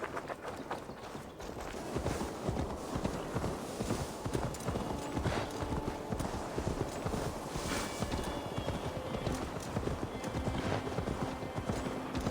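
Horse hooves clip-clop continuously in Assassin's Creed Valhalla, a steady galloping beat that starts after a quieter opening second and carries on, mixed with game ambience and occasional whinnying.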